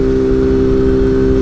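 A Kawasaki Z 750 motorcycle climbs a mountain road near Águas da Prata with a loud, steady engine drone held at high revs throughout, close by and with no voices.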